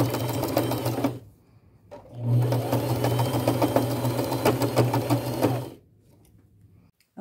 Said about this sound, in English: I'm going to use my second to largest zigzag stitch and a 1/4 inch seam allowance and get that all sewn.